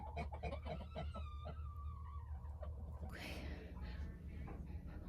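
Chickens cluck and murmur inside a chicken coop, several birds close by in a busy cluster of calls, with rustling and a brief burst of noise partway through.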